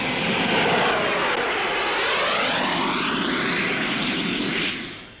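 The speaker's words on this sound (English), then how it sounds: "Here's a slow roll by numbers. The docile Provost is on the pilot's side all the time." A Provost trainer aircraft flying a slow roll at the Farnborough Airshow gives a loud, steady engine roar with a shifting pitch, holding strong throughout before fading at the very end.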